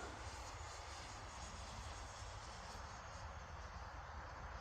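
Freewing 90mm F-16 V2 RC model jet on a 6s setup, flying overhead on its maiden flight, gives a steady, fairly loud ducted-fan roar that holds even throughout with no voices.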